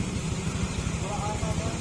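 A Honda Click 150 scooter engine, just refitted into its chassis in a repair shop, runs at a steady idle with a low, even pulsing throb close by, with a voice faintly over it.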